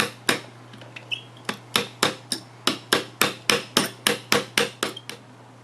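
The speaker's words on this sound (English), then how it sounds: "you get your center punch. I'm sorry, and you're just gonna hammer it back in" A hammer drives a pin back into a Rowe hopper with a center punch, about seventeen sharp metallic strikes in a steady, slightly quickening rhythm, close and clear over a low hum.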